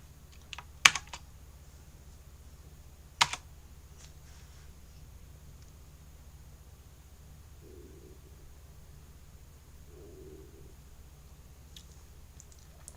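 Computer keyboard typing while a spreadsheet formula is entered: a couple of sharp isolated key clicks and a few faint taps, close and quiet against a soft background hum, with no talking.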